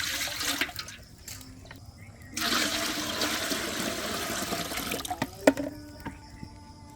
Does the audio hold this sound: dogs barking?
no